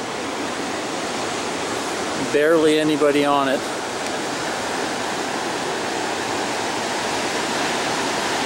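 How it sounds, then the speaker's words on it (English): Pacific Ocean surf rolling onto the sand at Bullards Beach in Bandon, Oregon at high tide, a continuous loud wash of breaking waves, with a voice speaking briefly partway through. "Looks like some good waves today."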